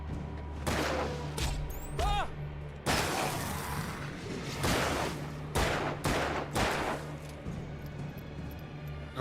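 Gunshots in the Alan Wake video game, a series of sharp loud reports spaced a second or so apart, some cracking and shattering, over a steady low ambient hum.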